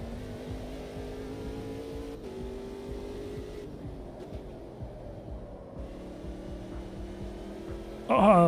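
Formula 1 Gen 2 race car engine in a racing video game during a Montreal Canadian Grand Prix preview, a steady mid-pitched drone holding and shifting in pitch with no talk, ending in a brief louder burst.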